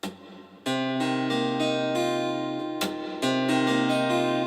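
An acoustic guitar strums an A-shape chord with the top strings muted, repeated strums ringing out full and close, a brief pause, then a fresh strum sustaining to the end.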